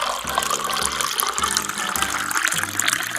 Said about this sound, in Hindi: तभी विवेक जाकर पानी लाता है और भानुमति के हाथ पर डालता है।